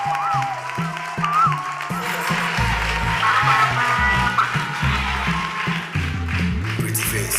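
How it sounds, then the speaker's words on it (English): A studio audience applauds a contestant on a television talent show, with scattered clapping and crowd noise mixed under booming music hits and other loud sounds. "Ladies and gentlemen, a round of applause for our next contestant"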